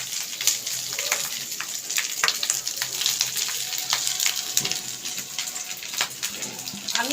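Cooked rice tossed into a pan with curry leaves, giving a steady close sizzle and crackle with scattered sharp pops throughout, no talking.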